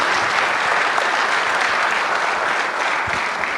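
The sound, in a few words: applause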